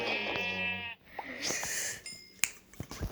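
A sheep in Minecraft bleats in a wavering, nasal cry for about a second, followed by a few sharp clicks and short bursts of sound.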